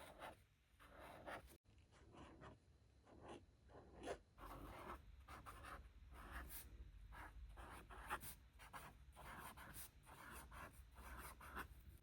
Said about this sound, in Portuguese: Agora eu vou deixar vocês um pouquinho com o som do ASMR da caneta, que eu acho muito satisfatório.